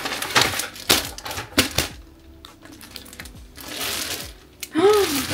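A newly delivered bag is unboxed, with close crinkling and rustling of packaging, sharp tearing bursts and handling noises, and a voice speaking briefly near the end.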